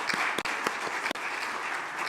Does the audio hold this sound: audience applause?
yes